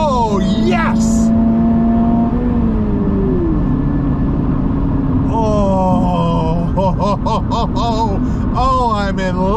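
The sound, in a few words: Toyota GR86 engine revving and screaming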